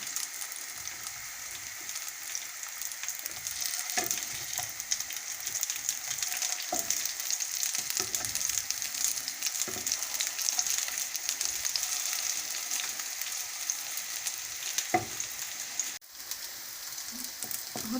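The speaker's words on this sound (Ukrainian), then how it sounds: "Оладки з двох боків смажувати, з двох боків до рум'яної дірочки." Liver fritters frying in a pan over medium heat, a steady close sizzle with scattered pops and crackles running throughout without any talk.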